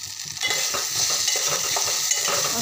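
Sabudana, crushed potato and peanut crumble stir-fried in a pan: a continuous close sizzle with rhythmic scraping strokes of a spatula, no voices.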